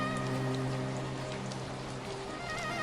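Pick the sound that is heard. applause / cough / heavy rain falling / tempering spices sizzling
heavy rain falling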